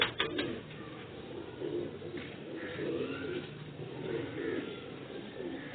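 Sialkoti pigeons coo in repeated soft, throaty phrases, close and steady, with no talk over them.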